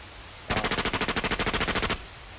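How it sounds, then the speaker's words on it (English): A single rapid burst of machine-gun fire from the game The Fruit of Grisaia, evenly spaced shots rattling for about a second and a half, loud and close. "he heard the first sounds of gunfire"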